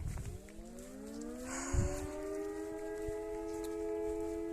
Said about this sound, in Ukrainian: розпочалися сирени.